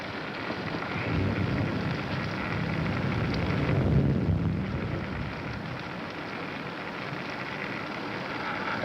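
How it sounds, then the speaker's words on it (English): Steady rain falls outside at night, a continuous even hiss with a slight swell in the middle, heard alone with no voices. "It's raining."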